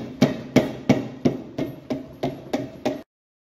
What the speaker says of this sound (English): Took a couple of taps, but it is off.